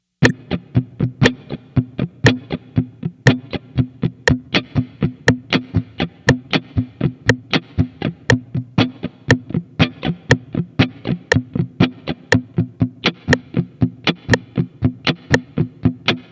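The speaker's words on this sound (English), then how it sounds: "start strumming continuous 16 notes with the neck covered" Electric guitar with the strings muted by the fretting hand, strummed in steady continuous sixteenth notes with sharp percussive accents, a driving scratchy chk-chk rhythm played alone and close throughout.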